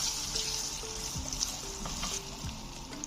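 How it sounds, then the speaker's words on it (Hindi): Three medium potatoes, finely sliced, fry in a pan with a soft continuous sizzle, quiet and close, with a few faint clinks of stirring. "इसको हमने अच्छी तरह फ्राई करना।"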